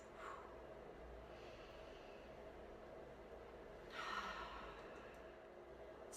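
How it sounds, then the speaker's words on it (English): Slow, deep breaths during a guided breathing exercise, each a faint, airy inhale and exhale heard alone and close against a quiet background hiss, with the clearest breath near the end. "Let's do a couple more deep breaths."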